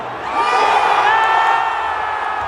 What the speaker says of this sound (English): Crowd erupts.